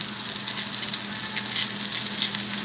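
Garlic sears in a hot pan for a budget chicken sandwich, a dense, fairly loud crackling sizzle with small pops, continuous and close, with no voices.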